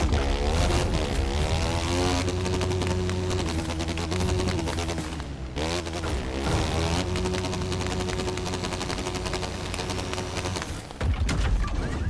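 Aircraft engine in The Crew 2 drones steadily at full power, a dense sustained roar with a humming tonal layer that shifts pitch, briefly dipping and then returning throughout.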